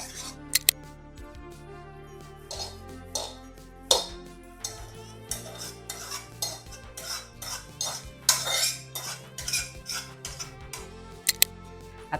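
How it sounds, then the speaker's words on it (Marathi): Mango rava ladoo mixture is scraped from a cooking pan into a large plate, with repeated metallic scrapes and sharp clinks of a spoon on metal throughout, close and fairly loud, with no talking. "आता हे परातीत काढून घेऊ आपण."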